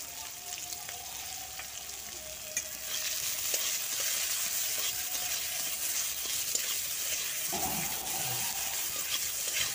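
Chopped onion frying with semolina in a pan, stirred steadily, giving a continuous close sizzle with scraping spoon strokes that grows louder partway through; no one talks.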